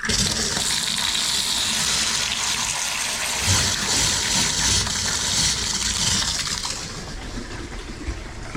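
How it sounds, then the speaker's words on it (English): Freshly repaired bath tap running, a steady loud gush of water pouring into the tub for several seconds, close and continuous, easing slightly toward the end, with no voices. "Now we can just give the tap a test."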